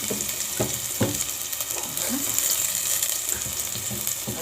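Onion and garlic fry in a pan with a continuous bright sizzle and a few soft knocks and scrapes underneath, close and steady throughout.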